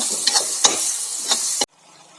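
Tomato, onion and green chili sauté in a pan for paneer bhurji, a close steady sizzle with a few sharp spoon scrapes, then it cuts off abruptly to near silence.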